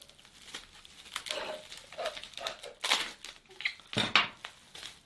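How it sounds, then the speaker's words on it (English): Adhesive tape is pulled off and pressed onto a cardboard box during packing, with crinkling and sharp ripping bursts, several close taps and rustles spread over a few seconds. "just put a bit of tape on"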